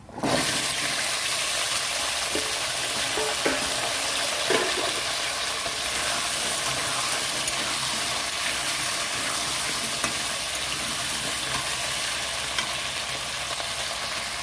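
Taro and potato fry in a pan with a constant loud sizzle and crackle, with a few soft stirring knocks early on; no voices.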